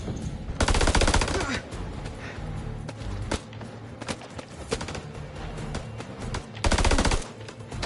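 Grenade launcher fire in the video game House of Ashes: loud, rapid bursts of gunfire punctuated by sharp single blasts, with near-constant combat clatter between them.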